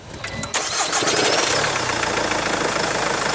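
A 2017 Infiniti Q30 engine cranks and catches with a sharp burst, then settles into a loud, rattly, knocking idle that continues steadily, heard close up inside the car with no talking.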